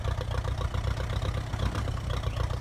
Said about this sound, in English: I just love this tractor.